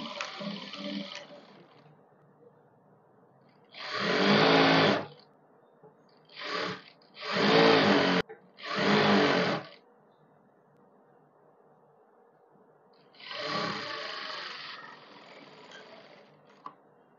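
A sewing machine runs a straight seam on palazzo pants in several short, separate bursts with quiet gaps between them, close and fairly loud.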